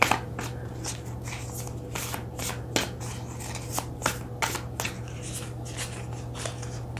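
Oracle cards being shuffled by hand, a soft continuous papery riffling with small slaps and rustles, close and fairly quiet over a low steady hum.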